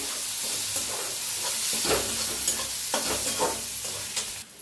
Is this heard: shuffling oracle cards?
no